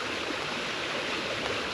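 Steady rain drums on a truck camping tent with guy lines strung out, a constant hissing patter close by with no talk over it.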